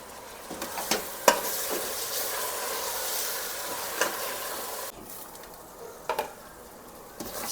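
Tomatoes are stirred and fried into cooked mutton and onions for a home-style mutton curry, giving a continuous close sizzle with scraping stirs and a few clanks of the utensil against the pot.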